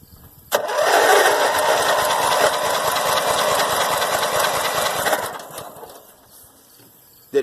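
A Snapper engine with valves that weren't sealing starts abruptly and runs loud with a rapid, chugging mechanical beat for several seconds, then dies away into quiet before another sharp burst at the end.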